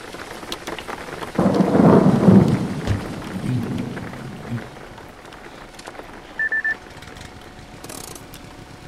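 A thunderstorm with heavy rain in the driving game Jalopy: a loud rolling thunder swell early on over steady rain patter, fading to continuous rainfall, with a short electronic beep later and someone talking.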